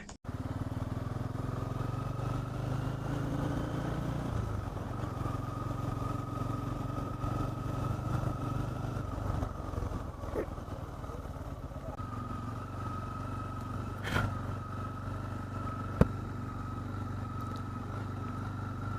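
A car engine hums steadily and close while driving slowly through the Lodhasuli forest toward a resort, a continuous low drone with a couple of faint knocks near the end and no voices.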